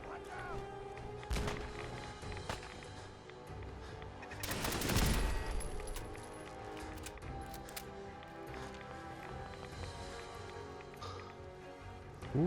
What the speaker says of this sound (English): Shots at us.